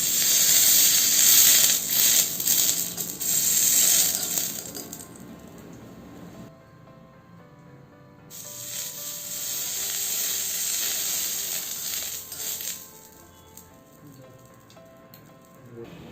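Butter sizzling on a hot tawa while paneer tikka cooks in a miniature cooking setup, a bright crackling hiss that swells and fades, drops out briefly, then returns.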